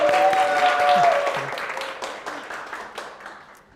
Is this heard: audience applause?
yes